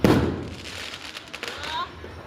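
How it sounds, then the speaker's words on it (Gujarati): A firecracker goes off with a single dull thump at the very start, then fades into quieter outdoor background noise at a night of setting off fireworks. "હાલો છેલ્લો ફટાક"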